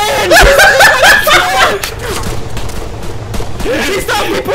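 Gunfire in the video game Altis Life, bursts of shots behind excited voices shouting and laughing.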